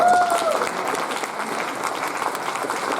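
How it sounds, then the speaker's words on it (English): Steady round of audience applause, even and fairly loud throughout, with a brief voice at the very start. "Let's give her a round of applause."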